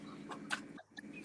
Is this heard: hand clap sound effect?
no